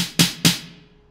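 Two sharp snare drum hits, bright and crisp with a ringing tail fading out, alone and close.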